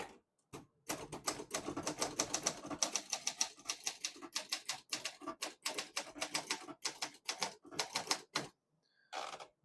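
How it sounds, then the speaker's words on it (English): A 1970 Olympia SM9 portable manual typewriter being typed on: crisp, close keystrokes in quick bursts with brief pauses, and a few isolated strikes near the end. "this is the arguably best typewriter ever produced, also known as the Olympia, the Mercedes-Benz of typewriters"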